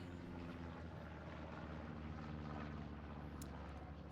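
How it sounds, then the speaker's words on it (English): A recon plane in a tank battle video game drones steadily overhead, a constant low propeller hum with layered engine tones, moderately loud and unbroken with no talk. "Looks like we got a D-Day 24/7 recon plane going in."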